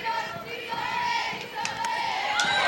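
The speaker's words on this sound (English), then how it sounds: "the crowd absolutely erupted uproariously" A softball stadium crowd at an NCAA super regional game between Oregon and Liberty erupts in sustained, loud cheering and shouting after a video review, a dense roar that holds steady throughout.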